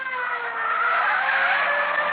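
A dark Chrysler sedan with a dented left fender takes off at speed in a radio drama, giving a sustained, loud tire squeal and engine whine that holds steady for about two seconds with no talking.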